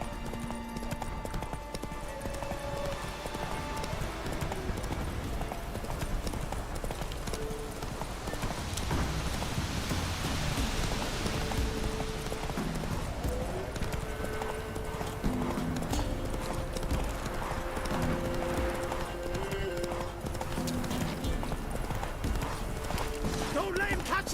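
Horse hooves pound in a continuous gallop in The Witcher 3 video game, rhythmic and close, with occasional voices speaking over the running and music.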